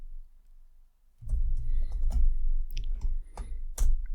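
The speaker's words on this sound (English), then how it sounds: "You hear the thumping of the keyboard?" A computer keyboard being typed on near a USB microphone gives dull, low thumps with sharp clicks, an irregular run of keystrokes after about a second of quiet, close and moderately loud, with no voices.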